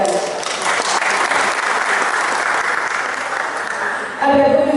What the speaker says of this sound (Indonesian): Mohon aplaus untuk beliau bertiga.